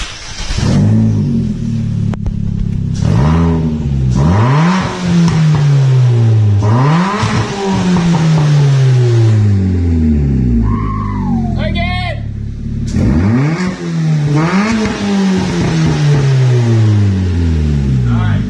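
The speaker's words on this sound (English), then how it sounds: "We just cut out his muffler, and now it's like open header." A Chevrolet Cruze with its muffler cut out to an open-header sound revs hard in repeated loud rising and falling bursts, close by, with people talking and exclaiming between revs.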